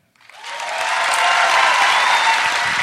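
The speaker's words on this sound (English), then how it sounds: "Clap if you think Matt's going to be a good dad." A studio audience at a live comedy podcast taping breaks into loud, sustained clapping that swells quickly and holds steady to the end.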